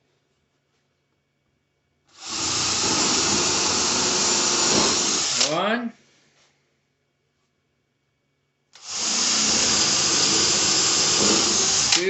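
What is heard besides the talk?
power drill drilling screw holes in wooden flag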